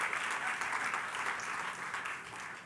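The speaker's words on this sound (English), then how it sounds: "Clap." An audience at an opening-remarks event applauds, a dense, even wash of many hands clapping at a moderate distance, continuing steadily throughout.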